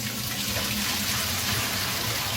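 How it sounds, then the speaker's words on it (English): Warm tap water runs steadily over raw chicken wings being rinsed in a kitchen, a continuous close-up hiss and splash with no talking. "Wash it off like 4 or 5 times. With some warm water, not cold water, warm water."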